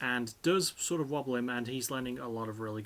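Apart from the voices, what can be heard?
None of the usual background noises is heard.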